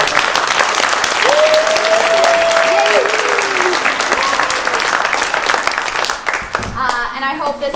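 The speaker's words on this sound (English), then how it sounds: "the biggest round of applause should go to Eleanor" Loud, sustained crowd applause at a community event, dense clapping with a voice cheering over it, thinning out near the end as talk resumes.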